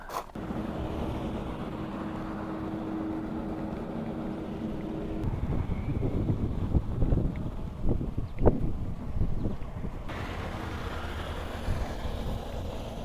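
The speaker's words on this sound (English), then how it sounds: "Comes a big boat." A big boat passes near York Harbour, Maine, with a steady low engine rumble and wind buffeting the microphone, swelling in the middle then easing off.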